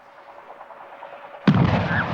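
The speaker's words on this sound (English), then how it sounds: "there's some irony about that explosion because in these days of the energy shortage, we didn't want to waste that much gasoline, so that explosion was mostly acetone" A sudden, loud explosion of mostly acetone, set off as a fuel demonstration, bursts in after a low steady hum and leaves a broad rumbling roar that carries on to the end.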